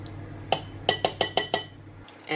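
A whisk clinks against a glass bowl while batter for gluten-free white chocolate blondies is mixed: six sharp, evenly spaced taps close up over a low background hum.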